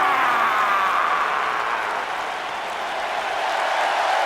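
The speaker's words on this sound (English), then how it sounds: "Clap for your longest reigning tag champs and feel the power!" A broad, even wash of crowd applause in a WWE 2K19 wrestling arena, sustained and fairly loud, dipping slightly midway before swelling again.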